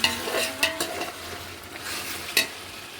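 Chicken biryani masala frying in a pan, stirred with sharp spoon scrapes and clinks over a continuous sizzle, close up with no voices.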